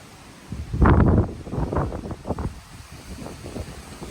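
Gusty storm wind in New Zealand buffets the microphone in a loud rushing surge, then eases into a steadier, lower roar.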